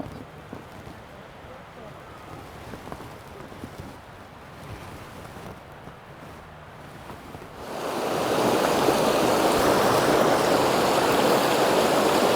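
Hot spring water at Chae Son in Lampang, Thailand, a steady rushing flow that swells loud and close partway through after quieter outdoor ambience, with a voice early on.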